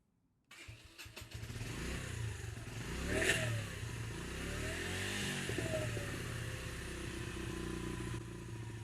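A motorcycle engine, just serviced with an oil change, fires up after a moment of silence. It then settles into a steady, fairly quiet idle close by, with a brief rise in revs early on.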